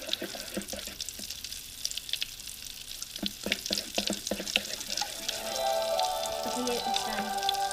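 A gritty, sand-like mix is stirred in a Magic Mixies toy misting cauldron, giving close scratchy rustling with scattered sharp taps. It shifts to a steadier, fuller hiss near the end.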